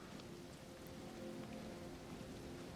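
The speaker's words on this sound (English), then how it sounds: "it's raining, which is actually going to be in our favor if it persists into the castle" Steady rain pattering across a night-time game world in Elden Ring near a castle, a soft, even wash with no breaks and a faint tonal hum beneath it, no voices.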